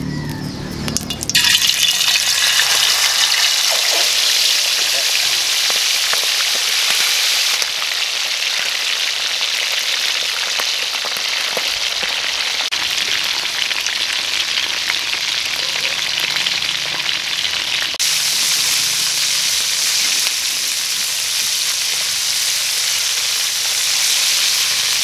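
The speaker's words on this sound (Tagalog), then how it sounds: "pusit naman po ang ipiprito natin ngayon" Squid stuffed with sautéed kangkong frying in hot oil: a loud, steady, dense sizzle with crackling spatter that holds for the whole stretch, with no voices.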